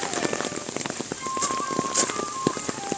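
Rain falls steadily through the Arashiyama bamboo forest in Kyoto, a dense close patter of drops striking leaves and surfaces, with sharper individual drips standing out.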